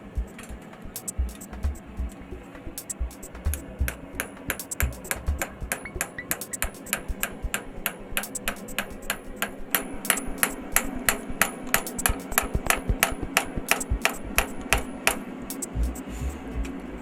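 A hammer forges a Scagel knife blade, steady ringing metal strikes at a quick rhythm that grow louder and denser toward the end, with faint voices in the background.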